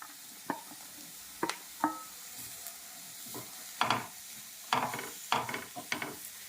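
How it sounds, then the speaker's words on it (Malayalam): Chopped bottle gourd added to a pan of spices over a low flame and stirred, faint soft sizzle under a series of irregular scraping and knocking stirs of a spoon against the pan. "അരിഞ്ഞു വെച്ചിരിക്കുന്ന ചുരക്ക നമുക്ക് ചേർത്ത് കൊടുക്കാം"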